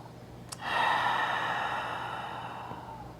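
A single long, deep breath taken while holding a yoga pose, close and audible. It swells quickly and then fades slowly over about three seconds, with no talking.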